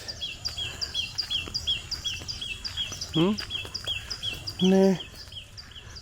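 Birds chirp and sing outdoors at about six in the morning, a steady run of short, high, repeated calls in the background, while a person speaks briefly and a couple of louder rising calls stand out.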